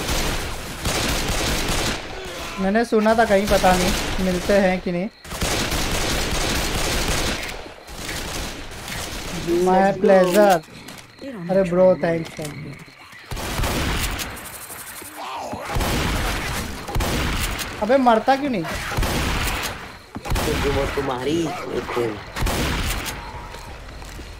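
Shotgun blasts and other gunfire from the zombie game Left 4 Dead 2, loud bursts recurring across the stretch, with players talking and reacting over and between the shots.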